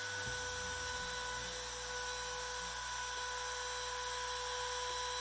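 A MillRight Carve King 2 CNC router cutting 3/4 inch MDF gives a steady, continuous machine whine with a constant tonal hum, running evenly throughout with no talk.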